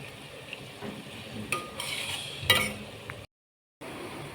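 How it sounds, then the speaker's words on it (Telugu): Bitter gourd (kakarakaya) chips frying in oil in a pan, a soft close sizzle broken by a few spoon stirs and light clinks, then a brief dead gap before the frying resumes. "చూడండి ఫ్రెండ్స్, కాకరకాయ దగ్గరకు వచ్చింది ఎగటానికి"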